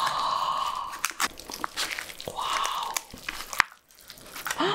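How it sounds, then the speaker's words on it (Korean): Eating cheese oven spaghetti in a close-miked mukbang, with soft wet chewing and slurping, a few sharper bites and crinkly clicks scattered through, no talking. "이번에는 치즈 오븐 스파게티 먹어볼게요."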